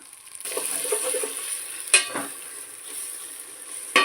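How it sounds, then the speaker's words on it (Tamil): Masala being mixed and sautéed with mint paste in a pan for egg pulao, soft scraping strokes over a light steady sizzle, a sharper clink partway through and at the end, close with no voices. "இப்போ இதை நல்லா மிக்ஸ் பண்ணிக்கோங்க"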